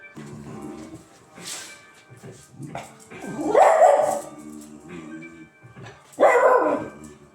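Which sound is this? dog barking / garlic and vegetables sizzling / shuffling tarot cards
dog barking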